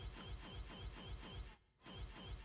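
Small bird in the game Tomb Raider: The Last Revelation, giving a quick repeated chirping call in a steady rhythm, faint and briefly pausing before resuming.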